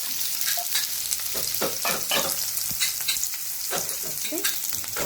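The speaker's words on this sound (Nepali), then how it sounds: "पहिला सुकेको खुर्सानी अनि सँगसँगै प्याज पनि हालेँ।" Dried chillies and onions fry in a pan as the base for an egg curry, giving a steady close sizzle broken by repeated scraping stirs of a spoon, with no talking.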